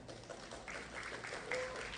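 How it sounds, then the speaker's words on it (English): Audience clapping for an award recipient at a women's business summit and expo, a moderate, continuous patter of many hands with faint voices mixed in beneath it. "Can we get a bigger round of applause for her?"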